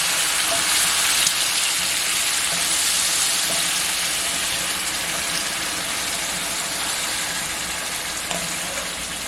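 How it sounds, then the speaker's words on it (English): Loud, steady sizzling of beef broth poured into a hot pan while making bacon jam, a continuous bright hiss that fades slightly toward the end. "See how it already sizzles?"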